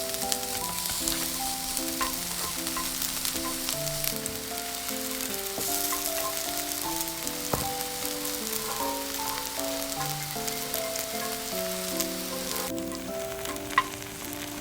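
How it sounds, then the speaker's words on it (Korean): Onions sizzle steadily in hot oil in a pan as they cook down until golden and sweet, a continuous, close, fairly loud crackle with soft tonal music underneath. "팬에 기름을 두르고 양파를 단맛이 나도록 노릇노릇 볶아줍시다"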